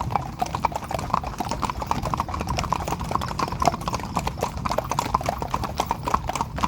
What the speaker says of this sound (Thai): ม้า มีม้าตื่นเดินเยอะๆ